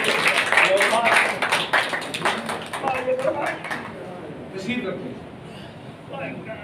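Audience clapping at a Punjabi mushaira poetry gathering, a burst of many hands applauding in the opening seconds that thins and fades away, with voices talking over and after it.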